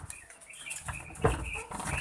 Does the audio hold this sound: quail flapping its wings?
yes